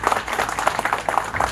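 Guests at the Status Group Ağ Şəhər branch opening applaud together, a dense run of claps that holds steady throughout without a break.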